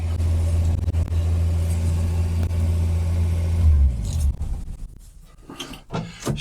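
A Ford Falcon engine runs loud and steady with a low rumbling drone for several seconds, then cuts off, leaving scattered clicks and knocks.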